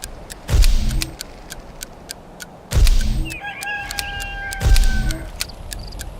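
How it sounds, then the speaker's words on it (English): Rooster crowing in the god game Black & White 2, three loud crows spaced a couple of seconds apart, with a faint rhythmic ticking and a whistle-like tone between them. "Roosters always crow when the sun comes up."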